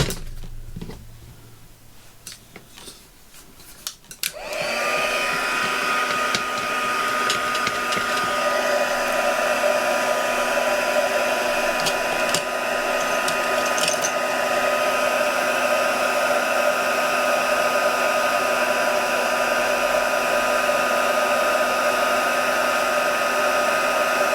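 A heat embossing tool blows hot air after a brief quiet start, switching on into a loud, steady, whining fan roar that holds unchanged for about twenty seconds, with no talk over it.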